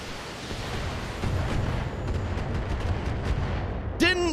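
Dense, rumbling artillery-like explosions burst repeatedly around a tank in a video game, a continuous loud barrage with a sharper whooshing blast near the end.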